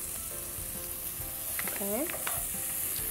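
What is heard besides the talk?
chicken frying in a pan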